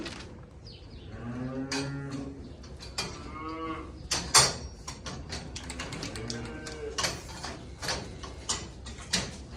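Cows lined up during cattle breeding work give several loud, drawn-out moos, some overlapping, close by, with scattered clicks and knocks from the handling area between calls.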